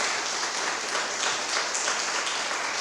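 A church congregation applauds steadily throughout, a dense wash of many hands clapping at moderate volume with no break.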